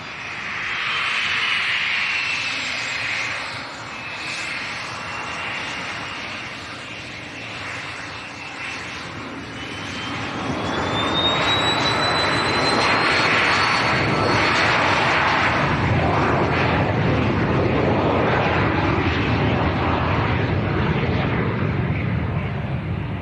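A jet airliner departs Leeds Bradford Airport, its engines rising from a distant roar to a loud, sustained rumble and whine as it passes and climbs, heard outdoors with no talk.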